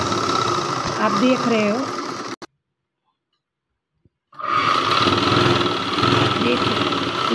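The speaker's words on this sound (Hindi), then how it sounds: "कपड़े को इस तरह से पकड़ना है और मशीन हमारा चलाते रहना है, बस इस तरह से।" An electric sewing machine stitches fabric in a steady, fast mechanical whir, cutting out abruptly for a couple of seconds of silence before resuming, with a person talking over it at the start.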